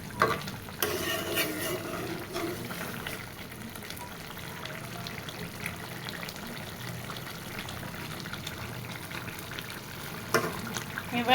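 Meat is stir-fried uncovered in an open pan as its released water cooks off, producing a steady bubbling sizzle with brief spatula scrapes and a few louder clatters near the start and end.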